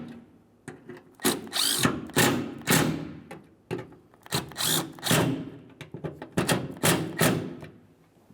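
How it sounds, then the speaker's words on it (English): A power drill drives three T40 Torx screws into the tailgate handle of a 2005-2010 Dodge Dakota: short, close, repeated whirring bursts, rising and stopping irregularly, with thuds and clicks between them. "start in each of the three T40 torque screws and then snug them up"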